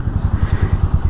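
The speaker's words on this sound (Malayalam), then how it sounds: "എൻജിൻ സ്റ്റാർട്ടായി." Royal Enfield Meteor 350 motorcycle engine just started and idling close by, a steady low thumping beat of regular pulses, loud and alone.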